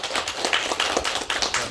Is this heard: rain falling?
no